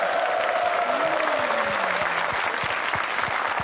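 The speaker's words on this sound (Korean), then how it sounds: "박수 한번 보내주십시오." A TV variety show audience visiting an army unit applauds loudly and steadily, with a few sharp close claps standing out and a brief cheer-like voice rising through the clapping.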